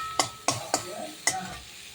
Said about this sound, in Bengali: এটা কিন্তু শুকনোই ভাজা হবে।